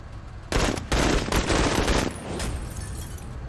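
Bursts of rapid automatic gunfire in the video game MENACE, loud and close, come in two heavy volleys and then ease into a quieter trailing burst.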